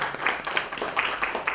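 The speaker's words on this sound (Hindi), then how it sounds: "सबसे पहले इनके लिए एक बार जोरदार तालियां होनी चाहिए" Loud, close clapping from a gathered audience honouring an Olympic medal winner, a dense rough patter with a few sharper claps rising through it, alone and without speech.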